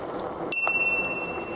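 Bicycle bell on a forest preserve trail rung once, a bright, close metallic ding that rings on and slowly fades over low ambient outdoor noise.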